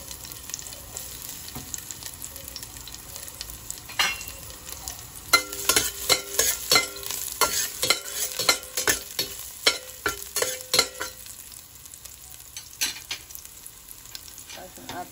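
Garlic sautéing in a small amount of oil in a pan for adong pusit, a steady close sizzle with a burst of sharp stirring clatters and crackles through the middle, easing off toward the end.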